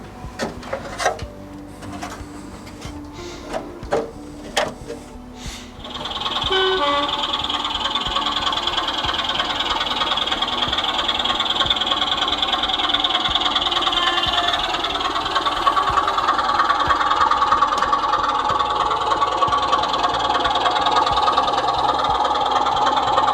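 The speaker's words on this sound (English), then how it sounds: "Then we can see a couple of trains running" Model trains running on a model railway layout: a few sharp clicks and knocks at first, then a continuous whirring motor hum with rattling wheels that carries on steadily and close.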